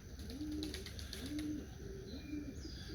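Young racing pigeons coo in low, repeated rolling calls near a loft in the early morning, with faint chirps and a constant outdoor hiss beneath.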